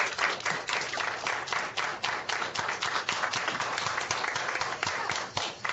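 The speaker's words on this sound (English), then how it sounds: "join me in giving a warm round of applause to Hall of Famer James Lofton." Scattered applause from remote participants unmuting their microphones at an online Pro Football Hall of Fame event honoring a Hall of Famer, uneven bursts of clapping from many small sources, fairly quiet and band-limited, with no voices.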